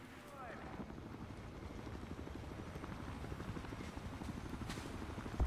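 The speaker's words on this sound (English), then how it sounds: "It's 2 helicopters now." Helicopter in the video game Battlefield Hardline, a steady rotor thump and engine drone running continuously at moderate level, with a faint voice now and then.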